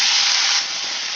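Onion and green chili paste hits hot oil tempered with whole cumin, giving a loud, steady sizzling hiss that eases slightly partway through, with no voices.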